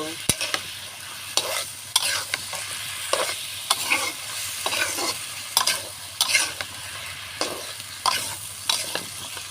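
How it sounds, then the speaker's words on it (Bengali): Malabar spinach with potatoes being stir-fried with chili powder in a pan: a continuous soft sizzle broken by regular scraping strokes of a spatula, close and moderately loud, with no talking. "পরিমাণ মতো ঝালের গুঁড়া দিলাম আমি সুন্দর করে পুঁই শাকটা কষাই নিব"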